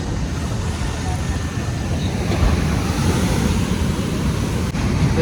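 Steady roar of ocean surf washing in at Shankhumukham Beach, Thiruvananthapuram, with wind buffeting the microphone and a faint murmur of voices in the background.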